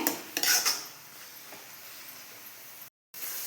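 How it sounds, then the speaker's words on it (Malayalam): Onions with ginger-garlic paste are stirred in a pan, a spoon scraping and clinking against the metal a few times close up, followed by a quieter stretch of faint frying hiss. "ഇനി ആവശ്യത്തിന് ഉപ്പ് ഇട്ട് ഇതെല്ലാം നന്നായിട്ടൊന്ന് വഴറ്റിയെടുക്കാം"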